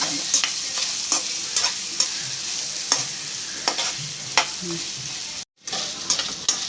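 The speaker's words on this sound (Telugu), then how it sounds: "సాల్ట్ వేసుకొని బాగా కలుపుకోవాలి" A salted potato fry is stirred in a hot pan: a constant sizzle with regular sharp spatula scrapes and knocks about every half second, close and fairly quiet, with one abrupt brief dropout near the end.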